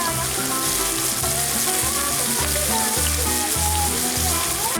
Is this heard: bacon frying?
yes